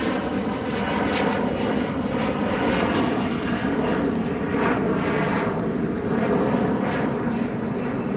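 Delta jet airliner passing low near the beach at LAX, a loud, continuous roar that swells and pulses gently throughout, with no talking.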